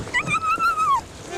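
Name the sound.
beach dogs in Palau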